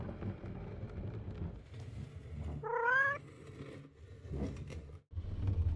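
A person imitates a cat with one brief, wavering meow in the middle of a game, heard over low background noise with a faint wind-like hiss.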